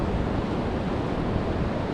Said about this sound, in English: So right now, this is the Pacific Ocean.